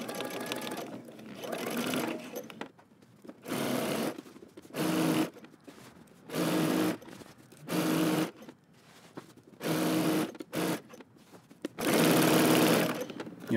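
Sewing machine stitching a jumpsuit seam, running in repeated short bursts of rapid whirring stitches separated by brief pauses, close and fairly quiet.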